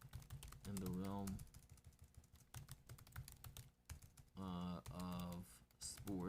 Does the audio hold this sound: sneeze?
no